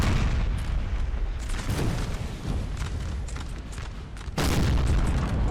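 Artillery fires in a Napoleon Total War 4v4 battle at Salamanca, producing a dense, continuous barrage of deep booms and cannon blasts with a fresh loud surge toward the end.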